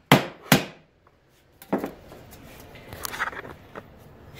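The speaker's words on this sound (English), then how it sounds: "I'm going to try to catch it right on the corner and bend that down." Hammer striking a metal fork to bend its corner down, two sharp close blows followed by a pause and then a run of lighter taps and clinks.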